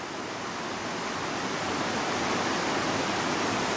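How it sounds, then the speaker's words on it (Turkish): Loud, steady rush of turbulent water filling the whole clip, a dense roar with no breaks, as the Aksu Creek, swollen after rains, pours close by near overflowing. "son yağmurların ardından Aksu Deresi gördüğünüz gibi yine taşmak üzere"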